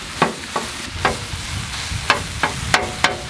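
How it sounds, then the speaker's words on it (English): Tilapia fish being chopped with a spatula on a hot Blackstone griddle, a run of sharp metallic scrapes and taps in an irregular rhythm over a steady background sizzle, close and loud. "I'm gonna actually just chop up our fish right on the griddle."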